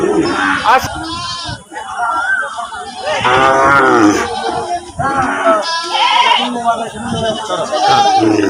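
Goats bleat at a busy village livestock market in Notunpur, sending out repeated wavering cries close by, heard under and between loud, constant chatter from traders and buyers.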